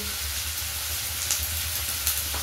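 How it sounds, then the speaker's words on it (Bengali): Turmeric powder frying in hot oil for a dhaba-style egg tadka gives a steady, close sizzle with faint stirring clicks, continuous and unbroken, with no voices. "দিয়ে একটু এটাকে লাল লাল করে ভেজে নিতে হবে"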